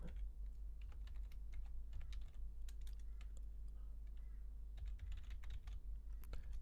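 A formula being typed on a computer keyboard into a LibreOffice Calc spreadsheet, with irregular clicking keystrokes close by over a low steady hum, no talking.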